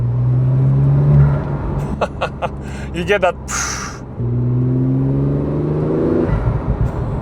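A Porsche 911 Turbo S flat-six engine swells on light throttle with a turbo whistle rising over the deep, close engine rumble, while someone talks over it.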